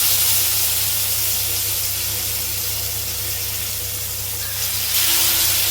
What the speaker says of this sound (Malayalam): ഇനി അത് പൊരിക്കാനുള്ള പരിപാടി തുടങ്ങുകയാണ്